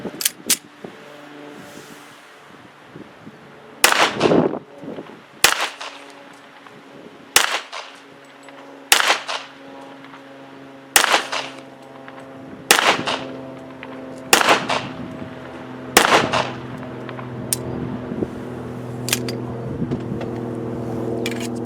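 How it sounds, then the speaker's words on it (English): A SIG 1911 Emperor Scorpion pistol fires Federal 230 grain full metal jacket rounds during accuracy shooting, about eleven sharp, loud single shots spaced a second or two apart, with a steady background hum between them. "we're going to shoot the SIG 1911 Emperor Scorpion. We're going to shoot some Federal 230 grain full metal jacket"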